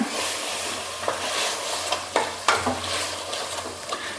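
A spoon scrapes and stirs ground masala through a sizzling pan, with soft repeated strokes over a constant frying hiss, close by.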